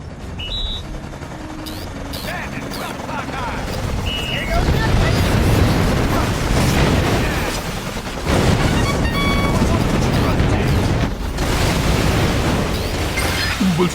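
Gunships attack a communications tower in the GameCube game Battalion Wars, a dense roar of rotor and engine noise mixed with booming blasts and rapid gunfire, loud and continuous, with game voices speaking over it.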